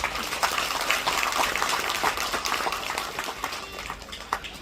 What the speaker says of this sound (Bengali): আপনাদের জন্য একটা বড় হাততালি হওয়া উচিত